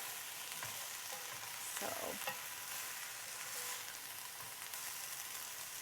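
Vegetables sauté in a pan over medium heat with a continuous crackling sizzle, broken by a few louder stirring scrapes partway through.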